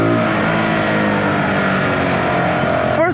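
A Zontes G125 motorcycle engine runs steadily and loud throughout, with a brief rev climbing near the end; no talk.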